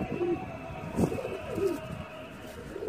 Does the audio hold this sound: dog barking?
no